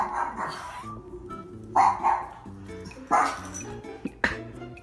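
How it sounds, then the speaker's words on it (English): A recorded dog bark played from an Alexa smart speaker in a home, several sharp barks in separate bursts with a faint hum between them, moderately close. "what does a dog sound like?"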